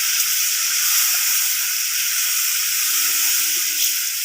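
Chilli paste with turmeric fries in the pan for a bata fish curry, a loud, steady hiss of sizzling oil throughout with faint stirring underneath.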